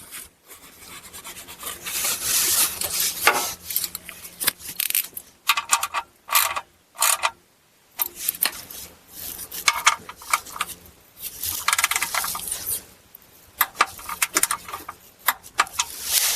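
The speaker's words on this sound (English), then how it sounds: "Then we're going to tighten this up to 18 foot-pounds." A wrench tightens a bolt to 18 foot-pounds during an oil change on a 2024 Chevy Silverado 2500HD with the L5P 6.6 Duramax V8 diesel. Close-up metallic rubbing and rasping comes in irregular bursts with short pauses, and no voices are heard.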